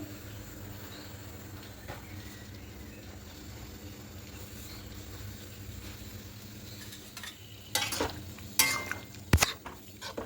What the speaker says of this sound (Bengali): খুব ভালো করে মিশে নিলাম